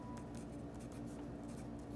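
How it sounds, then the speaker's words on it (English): A Pilot V7 needle-tip 0.7 mm rollerball pen scratches across paper in short close strokes, faint soft scraping repeated in quick bursts over a quiet background. "I like writing with this one a whole lot more."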